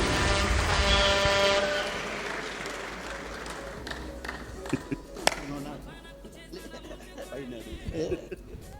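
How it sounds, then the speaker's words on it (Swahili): A congregation applauds a guest speaker at a church gathering, loud clapping at the start that fades over a few seconds, followed by scattered claps and someone talking. "Tumpigie makofi mazuri"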